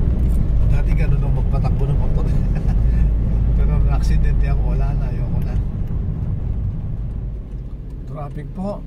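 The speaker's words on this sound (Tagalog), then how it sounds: "Grabe ang traffic." Heavy road traffic along C5 in Taguig City, a continuous low engine rumble with passing vehicles, heard under nearly constant conversation between people in the car.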